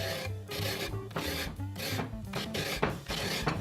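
Gypsum powder scraped onto a drywall patch, a steady close raspy scraping that runs in short rubbing strokes.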